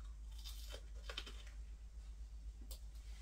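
Air-fried American grilled cheese sandwich being bitten, a few close crisp crunches and crackles over a low steady hum, quiet and brief.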